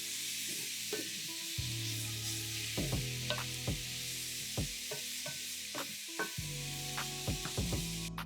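Celery and carrot sizzle steadily in a pan while being stirred, with a loud continuous hiss and repeated spoon scrapes and clicks close up, no talk.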